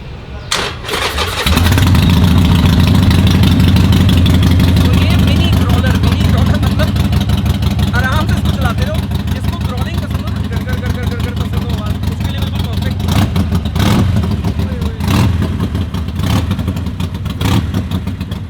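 A motorcycle with a modified loud exhaust fires up and settles into a loud, deep, throbbing idle with a few sharp revs, a voice talking faintly underneath.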